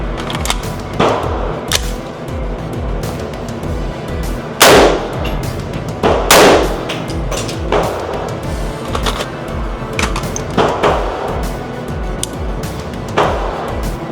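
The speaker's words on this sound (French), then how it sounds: "Voilà ce que ça donne à peu près du tir au laser" An HK416 rifle fired at a target outdoors, with sharp shots spaced irregularly across about fourteen seconds, loud and close, with metallic clatter between them.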